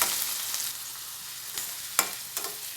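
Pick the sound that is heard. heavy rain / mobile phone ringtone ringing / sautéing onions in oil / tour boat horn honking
sautéing onions in oil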